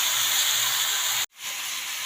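A pressure cooker cooking field bean (mochai) lentils lets off a loud, steady hiss of steam that cuts out briefly, then resumes slightly softer.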